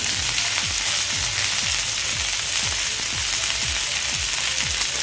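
Bangda mackerel shallow-frying in hot oil, a loud continuous hiss and crackle that stays dense and even throughout, with small popping bursts underneath.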